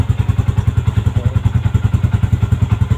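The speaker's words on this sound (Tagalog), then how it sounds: "Ganda ng tunog ng pipe natin." Loud, even idle of a Yamaha Sniper v.2 motorcycle engine through its exhaust pipe, a rapid regular thumping throb heard up close, with no one talking.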